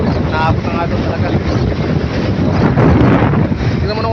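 Strong habagat monsoon wind roars steadily into the microphone near the shore where waves reach moored boats, loud and continuous throughout with gusty buffeting.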